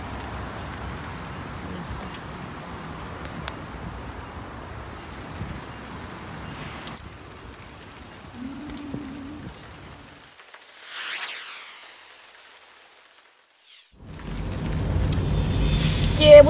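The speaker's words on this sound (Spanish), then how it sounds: "Bueno, todo está lloviendo." Rain falling outdoors on a cool, cloudy day, a steady broadband hiss of drops that fades to near silence midway, then returns louder at the end, with faint background sounds.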